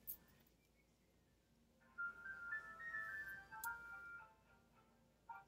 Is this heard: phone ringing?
yes